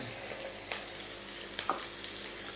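Garlic, bay leaves, cardamom, peppercorns, cloves and cinnamon for a chicken curry frying in oil, a steady soft sizzle broken by a few sharp scrapes and clinks of stirring.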